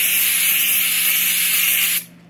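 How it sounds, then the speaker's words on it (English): A two-second hiss of Rust Cure Formula 3000 rust-proofing spray being applied to a snowblower, one steady close burst that stops abruptly. "just spray it on and wipe it off."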